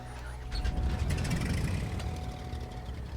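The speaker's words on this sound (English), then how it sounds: "Love the sounds of the engine here as it spools up." The left engine of a Chancellor 414 twin-engine aircraft starting in Microsoft Flight Simulator, a low steady rumble spooling up with a faint mechanical whine, moderately loud and alone.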